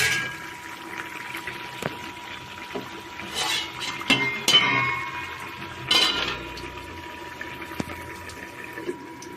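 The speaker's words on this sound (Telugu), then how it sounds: "గుడ్లు వేసేసాం కదా, ఒకసారి తిప్పి మూత పెట్టేద్దాం" A lid goes onto a pan of simmering egg and tomato curry, with a few sharp metallic clanks and scrapes over a soft bubbling background.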